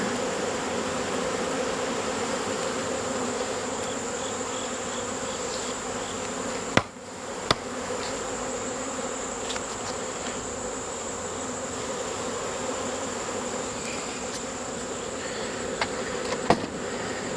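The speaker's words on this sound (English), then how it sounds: "This is a bee storm." Honey bees swarming in the open hum in a thick, continuous buzz all around, near and steady, with a few faint clicks and taps scattered through.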